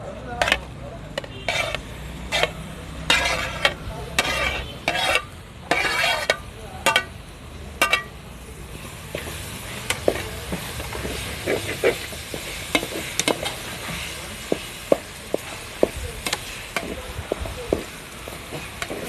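Snails sizzle and fry in a pan while a utensil repeatedly scrapes and stirs, sharp metallic clicks recurring over a steady crackling hiss.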